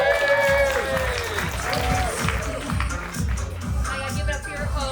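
An audience claps and cheers for Bridget, a steady burst of applause with whoops from a lively crowd nearby and someone speaking over it.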